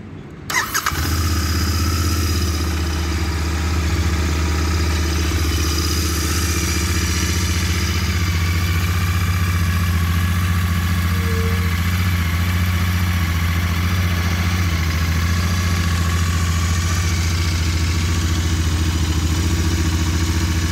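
A Royal Enfield Interceptor 650 motorcycle fires up with a sharp start, then settles into a steady, loud, close idle that holds for about twenty seconds with no one talking.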